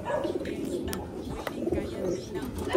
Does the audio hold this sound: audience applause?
no